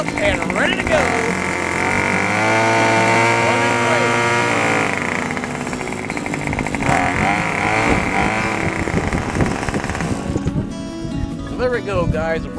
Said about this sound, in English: RM2510 is revved up and ready to go.